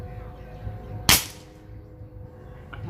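Norica Darkbull .22 PCP airgun firing a single sharp, loud crack at about one second, which fades fast into quiet background hum, close to the microphone.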